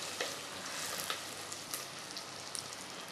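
Onions frying in a pan until brown, a soft, steady sizzle and crackle with scattered small pops, faint and close, with no voices.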